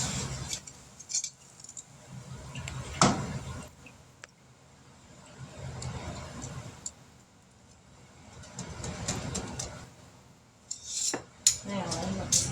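A cast-iron-style skillet scraped and clanked across stovetop burners while making Indian tacos, with several metallic knocks and rattles at close range, loudest around the middle and end, no talking.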